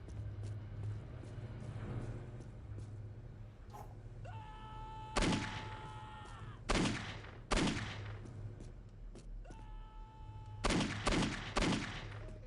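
Sniper gunfire in the video game Shmostal 2, with about five sharp, loud cracks spaced a second or more apart over a steady low game hum and faint whining tones.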